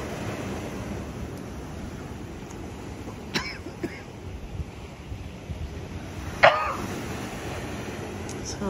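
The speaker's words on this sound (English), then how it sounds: "There you have some wave action on the beachfront" Ocean waves wash against a beachfront at a Sandals resort in Curaçao as a soft, continuous rumble under wind noise on the microphone. A few brief clicks and a short cough-like burst break in midway.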